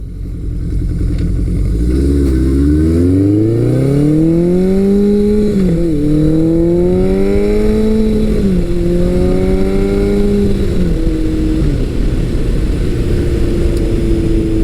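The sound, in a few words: motorcycle being ridden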